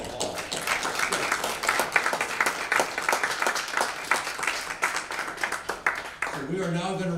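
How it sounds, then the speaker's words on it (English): An audience applauds the winner at the Ohio University Eastern Shark Challenge 2019, a dense burst of many hands clapping steadily for several seconds before a voice resumes speaking. "Let's give this winner a round of applause."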